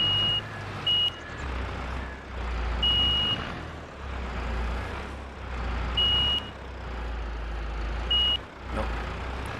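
A reversing beeper on a vehicle in Farming Simulator 22 sounds four separate times at irregular intervals. Each loud tone is clear and piercing over a low, rumbling engine idle that carries on underneath.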